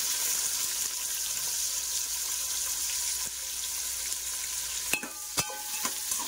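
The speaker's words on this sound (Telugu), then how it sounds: "ఇప్పుడు ఆనియన్స్ వేసేద్దాం." Sliced onions sizzle steadily in hot oil for a prawn biryani, a continuous close frying hiss, and near the end a few sharp spoon scrapes and taps against the pan cut through.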